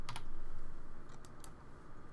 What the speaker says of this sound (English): I just love the sound of you pressing the button.